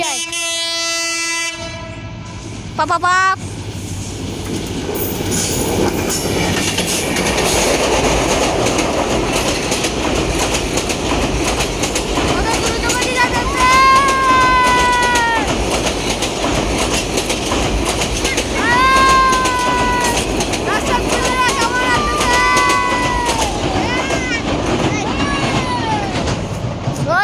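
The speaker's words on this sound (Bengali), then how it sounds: "আর দেখেন ট্রেন আসছে" The Lalmoni Express train rumbles past for the whole stretch, its horn sounding in several loud, drawn-out blasts, while a voice briefly calls out near the start.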